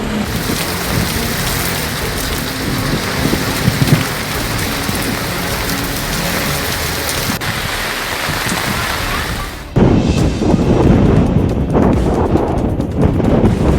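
Heavy rain and rising floodwater in Kalaburagi, Karnataka, with the Bhima river in spate: a dense, steady roar of downpour and rushing water that grows louder and rougher near the end, with no voices.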